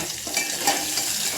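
Onions sizzle and fry in a pan while being stirred, a steady close hiss with soft scraping, heard alone in a short burst.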